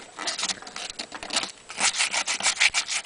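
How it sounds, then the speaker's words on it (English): Sandpaper roughing up the inside of an Iron Man prop, rapid rasping back-and-forth strokes, close and fairly loud, growing stronger in the latter half. "I'm going to take my sandpaper, and I'm going to rough up the inside of this"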